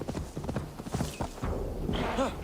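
Horse hooves clip-clop in a quick, steady rhythm in the video game Assassin's Creed Valhalla, close and fairly loud, with a short whinny near the end and faint ambient game sound underneath.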